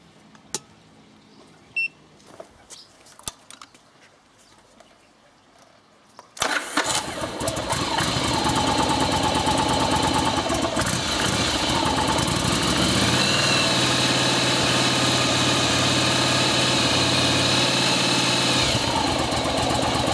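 Cold Yamaha Virago 1100 motorcycle: faint clicks and quiet handling noises, then the engine fires on the first try and settles into a loud, steady, throbbing idle that continues to the end.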